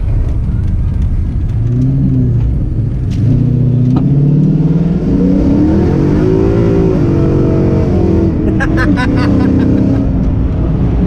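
A Fox body car with a swapped-in Mustang Coyote engine accelerates hard with tires spinning, a loud close roaring engine whose pitch rises and falls through revs, with brief squeal-like bursts near the end.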